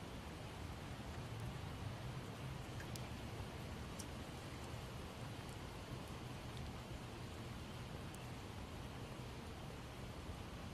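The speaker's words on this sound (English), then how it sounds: "Of course, the rain is slowing me down a little bit." Rain falls steadily in a zombie video game, a faint, even hiss with scattered drop ticks that continues unbroken, with no voices.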